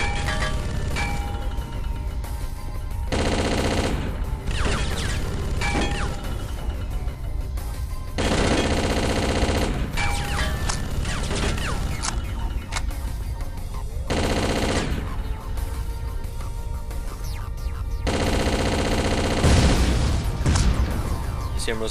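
Vehicle-mounted turret firing in the video game Chaser, loud sustained bursts of rapid automatic gunfire that come and go in long stretches over constant game noise, with heavy booms near the end.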